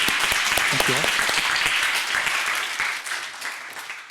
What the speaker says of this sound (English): can I have another big round of applause for speakers of panel 2?